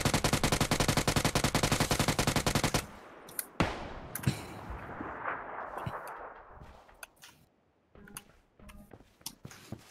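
Rapid automatic gunfire in the online shooter game PUBG Lite, a dense sustained burst for several seconds followed by scattered single shots and distant cracks, with no talk.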